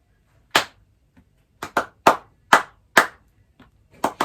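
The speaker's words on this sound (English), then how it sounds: "So let's clap something like" Hands clap out a short rhythm during a bass lesson on rhythm, about nine sharp claps in uneven groupings, close and crisp against near silence.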